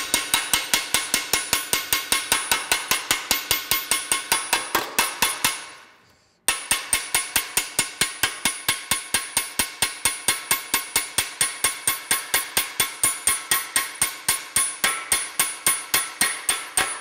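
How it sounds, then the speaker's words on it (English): Sheet metal struck on an anvil with a gently curved-face hammer in a metal-shaping workshop, a rapid, steady run of loud, ringing metallic blows at close range, broken once by a short pause before the rhythm resumes. "So I use a hammer with a gently curved face here"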